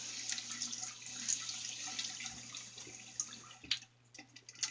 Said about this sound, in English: Let me go ahead and wet my face.